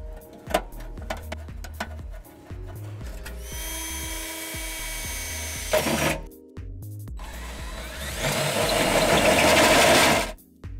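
A power drill bores holes in the frame of a 2019 Honda Accord for a trailer hitch, whining in two sustained, loud bursts separated by a pause, with clunks and tool handling around them.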